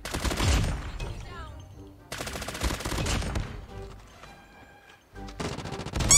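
Gunfire in the video game Call of Duty, including shotgun blasts: loud bursts of shots in three clusters separated by brief lulls, with game sounds in between.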